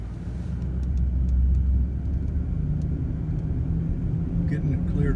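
Snow plow truck working a snowy road in Lexington, Kentucky during a storm, spreading salt between passes; a steady low engine rumble and road noise drone throughout, close and continuous, with faint higher clatter near the end.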